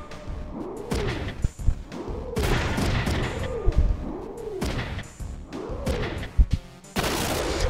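Oversized mech shotguns firing in Front Mission 3, a series of sharp blasts at irregular intervals with swooping whine-like sweeps between them and crashing impacts, loud and close.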